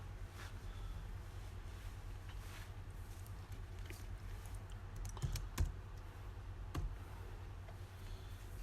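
Keys tapped on a computer keyboard while entering MATLAB code for a plane truss element, a few sparse clicks and a short burst near the middle, close and quiet over a steady room hum.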